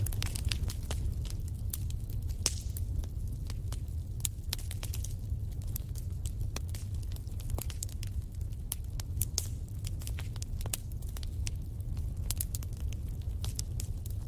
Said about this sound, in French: Le son du feu qui crépite a quelque chose de réconfortant.